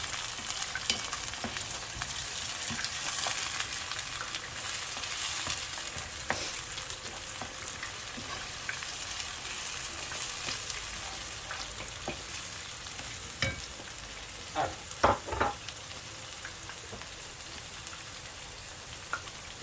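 Tomatoes frying in a pan with browned onions for a chicken meatball tomato sauce, a steady low sizzle close by with intermittent scraping stirs and spoon clatters, louder bursts near the end.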